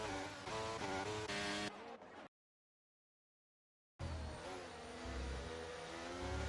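Formula 1 cars race at the start at Imola in a video game, with a loud, steady high-pitched engine whine from the pack, broken by a short gap of silence before the roaring resumes.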